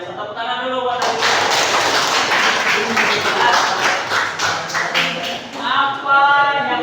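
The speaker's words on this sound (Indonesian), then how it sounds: "Tepuk tangan dulu buat Aditya." Classroom applause for a student named Aditya during an Islamic studies lesson: a steady wash of many hands clapping fills the room for about four seconds, with a teacher's voice speaking briefly before and after.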